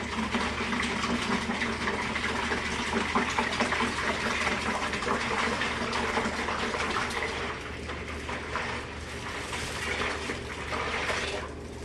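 Water gushes steadily into a turkey brining bucket lined with a large oven bag, a continuous loud, close splashing fill with no talk.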